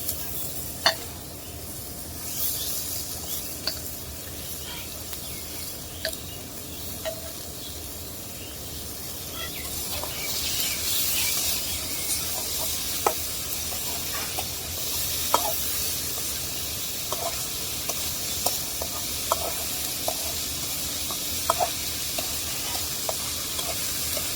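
Potato, carrot and papaya pieces frying with onion and turmeric in a pan, giving a steady soft sizzle with scattered clicks and scrapes of stirring, fairly quiet and close, with no talking.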